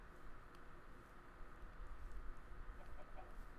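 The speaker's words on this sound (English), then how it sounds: "now I can attract some chickens." Chickens clucking in the video game Minecraft, soft and fairly close with irregular short clucks over a low background hum, no speech.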